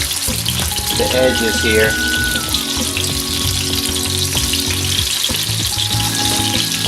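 Steak pieces hit a hot pan and sizzle loudly and continuously, a close, dense hiss with crackles, while someone speaks briefly over it.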